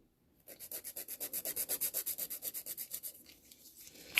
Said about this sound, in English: You just file it into place.